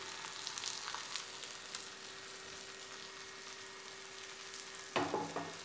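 Idlis frying in oil in a pan for dry masala idli, giving a steady, even sizzle near the pan, then a louder burst of clatter and sizzle near the end as the pieces are turned.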